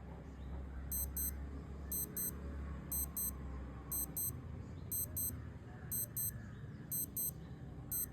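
A Casio F-91W digital watch alarm beeps steadily while its button is held, giving faint, high paired chirps that repeat about once a second over a low background hum.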